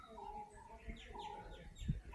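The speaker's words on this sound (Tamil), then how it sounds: "இன்னும் அப்படி இந்த பறவைகள் சத்தம் அப்படி ரம்மியமாக கேட்டே இருக்கும்." Birds sing in the forest on Mahalingam hill in Tenkasi district, with several chirps and short warbled phrases at moderate distance over a faint background, plus a brief low thump near the end.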